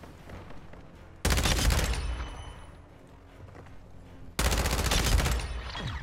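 Two loud bursts of rapid automatic gunfire in Call of Duty: Modern Warfare II, each lasting a few seconds, separated by a quieter stretch of ambient battlefield sound.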